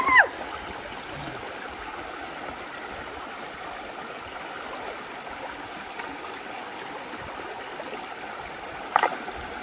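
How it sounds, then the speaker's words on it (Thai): A rural stream flows steadily in a broad, continuous rush of water, with a couple of brief knocks or splashes near the start and again close to the end, and no talking. "ท่านได้ไปเห็นห้วยบ้านผมเป็นไงบ้างครับลำธารกว้างไหมครับ"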